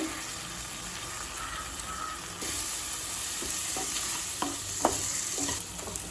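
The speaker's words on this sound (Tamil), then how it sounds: "இப்போ மிளகாத்தூள் வாசனை போக 1 நிமிஷம் வரைக்கும் வதக்கியாச்சுங்க." Onion, tomato, chilli powder and garam masala being sautéed for egg kurma in a pan, a steady close sizzle with a few scraping stirs of a spoon.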